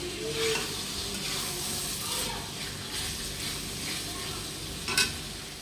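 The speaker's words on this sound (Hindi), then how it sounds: "मसाले और चुंगड़ी अच्छी तरीके से भून गए हैं।" Prawns and spices frying in a pan as they are stirred: a steady close sizzle with scraping stir sounds and a sharp clink near the end, and no talking.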